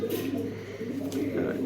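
A down-shape pigeon with a long, single tail coos steadily up close while it is handled and shown off, its low throaty rolling call continuing throughout alongside a faint human voice.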